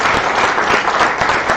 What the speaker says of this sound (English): We give a big round of applause to